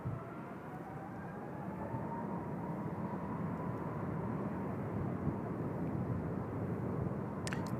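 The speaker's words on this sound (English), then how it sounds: "This 777 off to Dubai today." A Boeing 777 airliner departing Incheon Airport in Seoul for Dubai, a steady distant jet roar with a faint rising whine, continuous and fairly quiet throughout.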